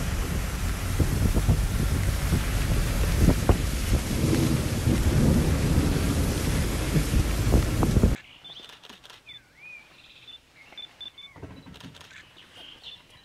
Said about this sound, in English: we are not expecting that we'll be getting so heavy rains